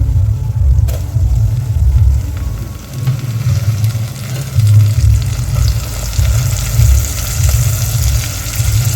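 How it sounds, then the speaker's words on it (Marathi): Tomatoes sautéing in a pan for Maharashtrian masale bhat, a loud continuous sizzle with a heavy low rumble, a brief sharp clack early on, and a few stirring sounds. "यालाही दोन मिनटं परतून घ्यायचं आता याच्यामध्ये आपण टोमॅटो टाकून द्यायचं आहे"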